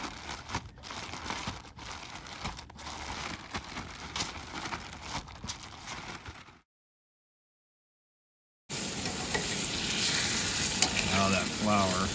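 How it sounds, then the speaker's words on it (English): Flour frying in fat to make a roux for a meal cooked on an overland trip: a close, steady sizzle with stirring scrapes, broken by a silent gap before louder sizzling resumes. "Now that flour is in the fat, basically the roux, starts thicking up."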